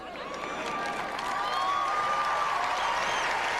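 Applause from a tennis crowd at the Australian Open 2003 for Andy Roddick after a quarterfinal, sustained clapping and cheering that swells in a large arena, with a faint voice over a loudspeaker.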